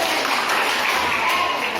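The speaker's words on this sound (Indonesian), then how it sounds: "kita kasih tepuk tangan dulu" A classroom of students claps together for a pupil named Reza who gave a correct answer, a steady wash of many hands over the short stretch, with faint voices mixed in.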